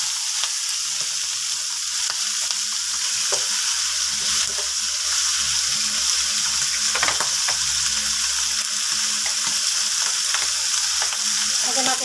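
Chunks of pork for adobo browning in hot oil in a pan give a steady, loud, crackling sizzle that runs unbroken for the whole stretch, with no voices.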